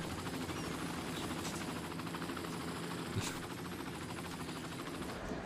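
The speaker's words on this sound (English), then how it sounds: "So many people want to fly with the helicopter." Helicopter in the city-building game Cities: Skylines, a steady whirring rotor drone that runs continuously and evenly throughout at moderate level, with no talk over it.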